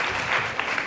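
Audience applause at a graduation ceremony, a dense steady wash of many hands clapping close and loud, with no break across the short stretch.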